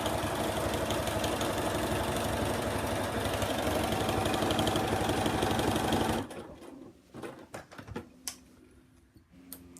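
A 4-thread overlocker runs fast and continuously, stitching and trimming a fabric bag seam, for about six seconds, then stops. Soft handling clicks and rustles of the fabric follow.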